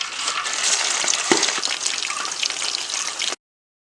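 Chicken pieces frying in hot oil for a chilli chicken dish, a dense steady crackling sizzle with a few sharper pops, close and continuous until it cuts off abruptly.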